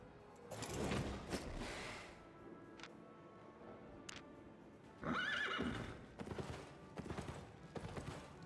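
A horse in the video game Albion Online whinnies loudly twice among clattering hoofbeats, with sharp mechanical clicks between, all close and without voices.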